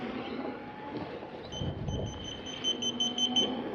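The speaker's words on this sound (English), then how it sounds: "This thing beeped 37 times when you connect it." A KingSong KS60 Next electric unicycle emits a rapid string of high, thin beeps as its app connects, repeating steadily for a couple of seconds over outdoor wind and background rumble.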